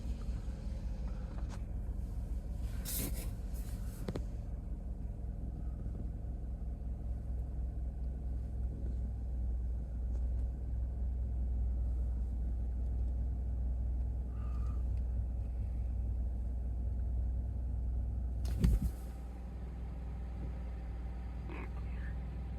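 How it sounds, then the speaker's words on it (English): A parked car's engine rumbling, a steady, loud low drone running the whole time, with people talking over it and a few brief sharp bumps and knocks. "Is that your car making that noise?"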